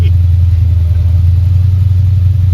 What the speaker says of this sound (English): Is that a lifter or an exhaust leak? Lifter.